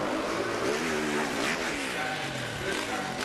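A motocross bike in the X Games 2014 Moto X Step Up contest revs on the throttle, a steady engine drone with rising and falling pitch under crowd noise and a commentator talking.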